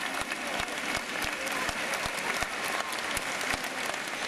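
Long, steady applause from a large crowd of thousands inside Naples Cathedral as the San Gennaro blood miracle is announced, dense clapping holding evenly throughout with no voices standing out.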